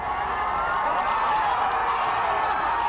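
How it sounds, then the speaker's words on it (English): A large crowd gathered outside the court roars steadily as a landmark gay rights ruling comes down. The broad, continuous wash of cheering voices holds at an even level throughout. "A huge cheer, then singing as the decision reaches the crowd out front"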